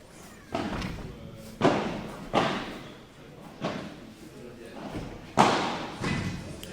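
Padel ball struck by rackets during a tournament final, with about seven sharp, echoing thuds spaced irregularly across a rally and faint voices in the background.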